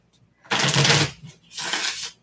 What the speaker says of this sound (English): Let's see if I shuffle them again